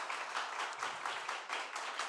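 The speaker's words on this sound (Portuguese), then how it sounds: "Aplauda ao Senhor." A church congregation claps in praise, a steady run of soft, fairly distant applause with rhythmic pulses and no talk over it.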